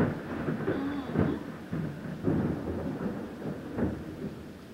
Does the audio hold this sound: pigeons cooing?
no